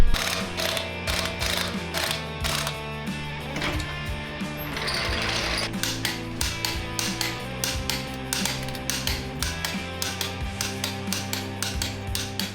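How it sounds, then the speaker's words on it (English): Truck wheel lug nuts being tightened by hand with a torque wrench, a steady series of close, loud ratcheting clicks repeating in rhythm throughout, with a brief noisier scrape in the middle. "I finish it up with the torque wrench"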